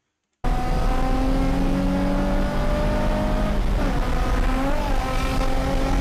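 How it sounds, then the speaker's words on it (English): Car engine revving hard through a third-to-fourth gear shift, bursting in loudly after a moment of silence and holding a steady high drone that wavers as the revs change. "you can actually hear the revs of the engine"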